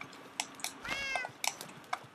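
Tamed cat in the Minecraft video game meowing, one clear drawn-out meow near the middle with a few short clicky game sounds around it, close and fairly quiet.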